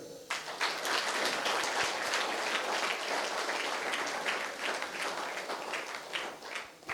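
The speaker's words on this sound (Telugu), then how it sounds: "అందరూ చప్పట్లు కొట్టాను గట్టిగా" An audience at a government intermediate college applauds, a dense steady crackle of many hands clapping together that carries on for several seconds.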